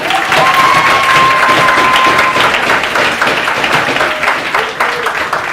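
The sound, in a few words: audience applauding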